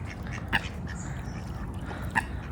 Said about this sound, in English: All the ducks out.